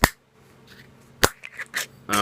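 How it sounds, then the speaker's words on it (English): Metal screw cap twisted off a bottle of Mississippi Brewing Co. Mississippi Mud Black and Tan beer, with a few sharp close clicks and scrapes, then a brief rattle. "let's screw the cap off of here"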